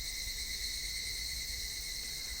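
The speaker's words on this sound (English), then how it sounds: "Only the cry of the cicadas remained annoyingly loud" Cicadas crying in the Higurashi visual novel game, a dense, steady high-pitched electric drone with no breaks, loud and continuous, no voices.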